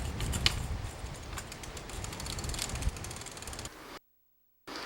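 A handle is inserted into a tree-rigging friction lowering device mounted on a trunk, giving a quick run of close, crisp mechanical ratcheting clicks that stop abruptly before a short pause.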